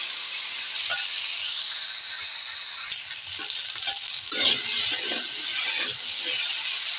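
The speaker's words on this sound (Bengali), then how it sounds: "আলুর সঙ্গে অল্প হলুদ দিয়ে দিলাম দিয়ে আমি নাড়াচাড়া করতে থাকবো আলুটা অল্প ভাজা ভাজা হয়ে আসবে" Potatoes with a little turmeric fry in a pan with a steady close sizzle, while intermittent scraping and stirring strokes come through during the second half.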